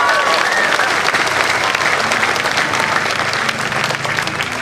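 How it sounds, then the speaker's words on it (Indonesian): Loud, dense applause from a large crowd at a revival gathering in Mamasa, with a voice sounding over the sustained clapping. "Tepuk tangan lebih ramai, lebih lagi."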